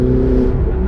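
A Ferrari 488 Spider's engine roars loudly and steadily for a moment, a deep continuous drone close by.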